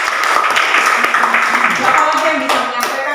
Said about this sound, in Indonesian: Bagus, tepuk tangan untuk Emmanuel.